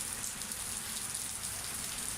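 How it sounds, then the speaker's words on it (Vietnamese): Heavy rain falling outside, a steady dense hiss of drops on surfaces, fairly close and continuous with no voices. "Trời mưa to quá, chúng ta không thể ra ngoài được."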